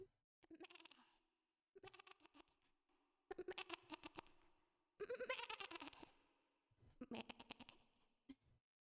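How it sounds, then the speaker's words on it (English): Sheep bleating: five separate wavering, nasal bleats of about a second each, spaced across the stretch and heard clearly against near silence. "Sheep."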